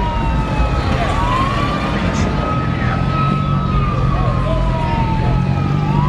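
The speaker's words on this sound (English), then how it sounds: "You hear the cops in the background?" A police siren wails in the distance, its pitch sweeping up and down, behind a street scene in LA with a low traffic rumble and someone talking over it.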